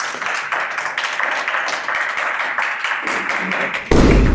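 A studio audience claps to welcome the next participant on a French dating game show, a dense patter of hands filling the room before a louder burst at the end.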